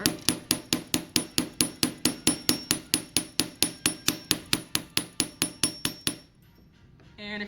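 A texturing hammer strikes a copper choker for a diamond-cut texture, delivering about two dozen sharp, bright, evenly spaced metallic taps at close range before stopping, with a faint clunk afterward.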